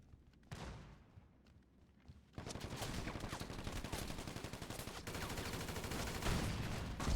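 Shotgun fire in the online mode of Grand Theft Auto V, a dense run of close, loud blasts and impacts that starts abruptly after a quieter stretch and keeps going with a busy game soundscape behind it.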